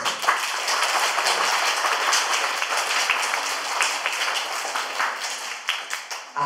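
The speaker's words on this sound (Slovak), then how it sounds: "a privítame ho potleskom" An audience claps warmly and steadily to welcome the Czech ambassador to Slovakia at a Slovak reading event, dense, even applause filling the room with no break.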